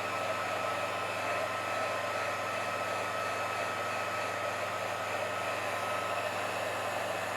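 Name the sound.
hair dryer drying coating on glass for laser engraving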